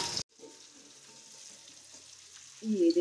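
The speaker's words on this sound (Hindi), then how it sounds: "ये देखिए हमारे आलू कितने बढ़िया फ्राई हो रहे हैं, नीचे गोल्डन हो गए हैं।" Potatoes fry in ghee in a pan with a steady, soft sizzle; a sharp clatter opens the sound and a louder burst of frying or stirring rises near the end.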